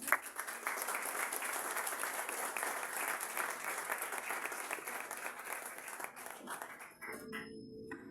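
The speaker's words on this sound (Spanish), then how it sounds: "Denle un aplauso a Él." A church congregation applauds after a sermon, a dense, sustained round of clapping that fills the room for about seven seconds and then fades out, leaving quieter room sound.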